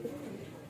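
A racing pigeon coos in a short, soft burst of low, throaty notes, moderately close and fairly quiet against light background noise.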